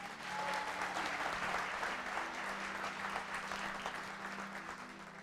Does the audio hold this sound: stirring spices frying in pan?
no